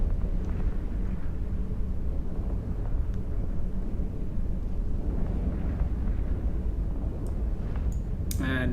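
Rumbling, booming blasts of ships being destroyed in the EVE Online space game, a continuous low roar with scattered deeper thumps and a few sharp crackles near the end, loud and without talk.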